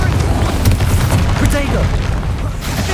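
A Confringo fire spell explodes in the Hogwarts Legacy video game, giving a deep, rumbling boom that swells and fades over a few seconds. Battle sounds fill the background.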